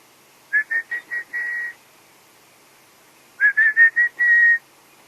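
A person whistles an imitation bird call on a morning safari: a run of five quick chirping notes ending in a long one, a pause, then a similar phrase repeated.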